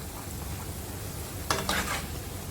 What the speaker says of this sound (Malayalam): ഇടയ്ക്ക് ഇളക്കിയിട്ട് ഫ്രൈ ചെയ്തെടുത്താൽ മതി.